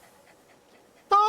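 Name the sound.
lizard doggo creatures panting in Satisfactory video game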